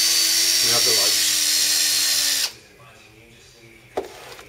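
A DeWalt 18V cordless quarter-inch impact driver from the DCK285L2 twin pack whines loudly for about two and a half seconds, then stops, leaving a quiet room with a brief click.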